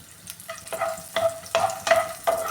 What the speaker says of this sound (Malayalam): ഇത് നന്നായിട്ടൊന്ന് ഫ്രൈ ആയിട്ടുണ്ട്